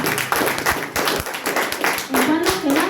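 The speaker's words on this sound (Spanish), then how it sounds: "Dale un fuerte aplauso" Church congregation clapping hands during a sermon, close rhythmic claps mixed with a voice and a rising sung or shouted tone near the end.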